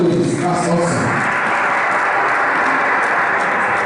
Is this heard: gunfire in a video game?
no